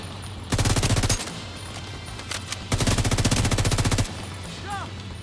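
Assault rifle fire in the video game The Division 2, two long fully automatic bursts of rapid, evenly spaced shots, loud and close, with a few single shots and quieter moments in between.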